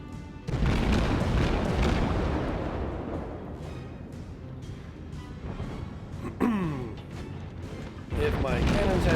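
Heavy naval guns booming in World of Warships, a loud close salvo followed by rumbling reverberation and further deep blasts, with someone talking throughout.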